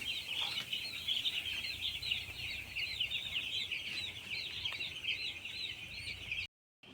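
A dense flock of chickens in a poultry shed keeps up a continuous chorus of high cheeping and clucking, steady and moderately distant, with faint flapping noises.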